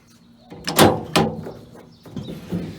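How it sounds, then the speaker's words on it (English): A locked Chevrolet Silverado tailgate fitted with a Bully tailgate lock is tried, giving two sharp metallic clunks close together, then a softer rattle and a couple of lighter knocks. "Now when I put it on lock, it should go over that little arm and you can't open the tailgate."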